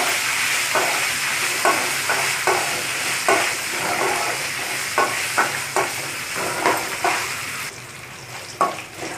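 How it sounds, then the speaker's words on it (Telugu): Green chillies, dried red chillies and curry leaves fry in hot oil for Andhra-style lemon rice, a steady loud sizzle broken by repeated stirring scrapes in an uneven rhythm, with no talking. "ఇప్పుడు దీంట్లో పచ్చిమిరపకాయలు, ఎండుమిరపకాయలు, అలాగే కరివేపాకు వేసుకొని మరొక నిమిషం పాటు వేయించుకుందాం."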